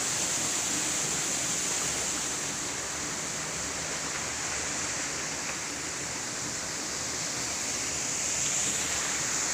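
A forest waterfall at Mui Ne, Vietnam, pours as a steady, dense rush of falling water that stays loud and even throughout, with no voices over it.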